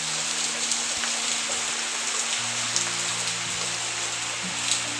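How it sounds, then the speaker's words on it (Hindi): Rain pours down in a village, a constant close hiss of drops striking surfaces, with a low steady hum running underneath and no speech. "और ये देखो बारिश।"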